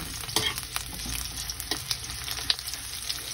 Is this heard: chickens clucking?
no